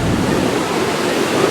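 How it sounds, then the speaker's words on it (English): Atlantic Ocean surf at a beach on the Wildwood boardwalk shore, a loud, continuous wash of breaking waves filling the air with broad, steady roar. "It's the Atlantic Ocean. We're at the beach."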